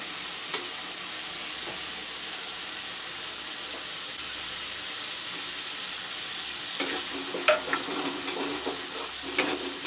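Onion paste fries in a pan with a quiet, steady sizzle, joined later by a few stirring clinks and scrapes up close, with no talk.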